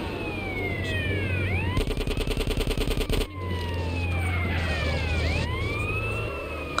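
Police car siren in GTA San Andreas, a wailing sweep rising and falling over engine drone and game noise, interrupted midway by a rapid burst of automatic gunfire before the siren resumes.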